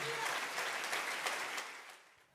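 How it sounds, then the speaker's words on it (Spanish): A church congregation applauds during a Spanish-language morning sermon, a dense wash of clapping that holds steady, then fades out toward the end. "Dale un aplauso al Rey en esta maravillosa mañana."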